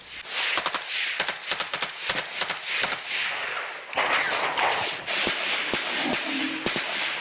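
Sharp gunshots crack repeatedly on a frontline battlefield near Shyrokyne, some in quick clusters and others spaced apart, over a rough background rumble.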